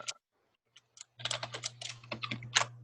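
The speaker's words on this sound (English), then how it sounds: "What are you typing?" A computer keyboard is typed on in a few scattered taps, followed by a dense run of rapid clicking keystrokes, close and clear with no voices.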